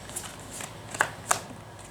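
Tarot cards are shuffled and handled in a quiet room, with soft papery riffling and two crisp snaps close together near the end, with no voices.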